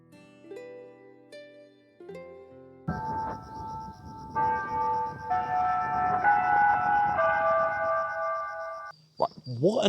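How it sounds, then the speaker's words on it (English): A siren wails steadily in the distance in Japan, rising and holding for several seconds, following a few sparse tones, with a sharp noise at the end. "What on earth was that very foreboding siren just blaring out?"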